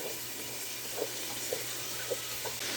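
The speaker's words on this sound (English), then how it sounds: "Stir that in really good and break up the pieces of the shallot and the hamburger as you go." Ground chuck and diced shallot sizzle in a pan, a steady frying hiss with several soft scrapes and taps as the spatula breaks up the meat.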